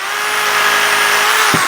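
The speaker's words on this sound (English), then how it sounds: "Take my reciprocating saw, and we're just going to cut that right off where the sprue goes into" A reciprocating saw cuts the sprue off a cast metal part with a loud, continuous buzzing grind and a steady high whine, ending in a short dull clunk.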